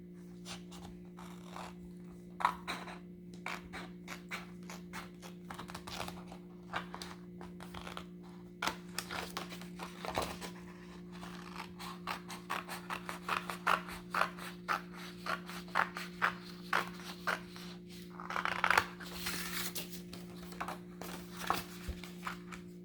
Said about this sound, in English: in the next step we are going to use the scissors and cut it out